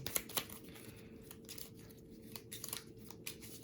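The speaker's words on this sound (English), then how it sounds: "I need to shuffle those discards back in" Discarded cards from the Super Fantasy Brawl board game are shuffled back into the deck, a faint rapid papery riffling and crinkling that runs steadily for a few seconds, close by and without talk.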